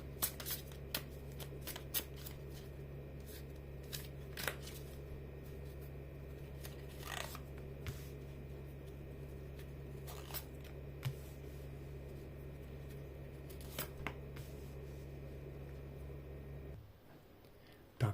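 Playing cards are shuffled close by, quiet riffles and snaps recurring at irregular intervals over a low steady hum, ending abruptly.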